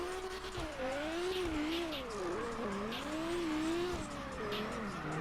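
Engine note of a car in the racing game CarX Drift Racing Online that revs and shifts pitch up and down steadily, with brief tire squeals, sounding synthetic.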